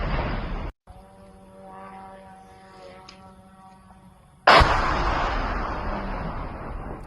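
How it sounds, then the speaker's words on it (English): A Ukrainian drone strike on a Russian railway station: a low steady droning hum gives way to one sudden, loud explosion whose blast rumbles on and slowly decays, with no voices. "Listen to the sound of that explosion."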